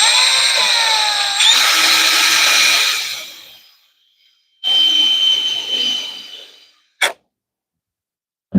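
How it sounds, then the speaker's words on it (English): A power drill whines at high speed for a few seconds, stops, then runs again briefly before a couple of short clicks, while work is done on firepit benches. "Helps if I put the bit in the drill."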